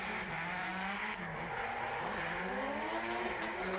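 Formula Drift cars drifting door to door in the Atlanta Top 32 battle between Fredric Aasbo and Robbie Nishida, with a continuous loud engine roar whose pitch wavers and climbs.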